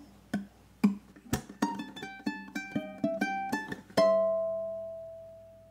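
Single picked notes on a ukulele play a two-bar 12 bar blues ending, a quick plucked run of about a dozen clear notes building to a final note left ringing and fading.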